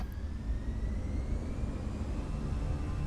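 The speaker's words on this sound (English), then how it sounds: "Listen to those engines, CFM engines, guys." Airbus A319 with CFM engines spooling up to takeoff thrust in a flight simulator, a steady, loud broadband engine roar with a faint rising whine, continuous and without talk.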